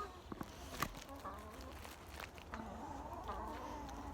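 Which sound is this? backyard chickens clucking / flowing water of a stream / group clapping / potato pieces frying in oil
backyard chickens clucking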